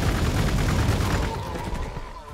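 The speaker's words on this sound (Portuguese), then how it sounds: "Toma muitos tiros." Rapid gunfire in the strategy video game Warhammer 40k Gladius, a dense overlapping fusillade of shots that is loud at first and then slowly thins and fades.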